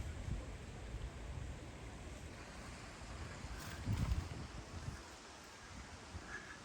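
Steady outdoor wind in a botanical garden in Sheffield buffeting the microphone, a low rumbling gust swelling briefly midway before easing back to a constant breezy roar.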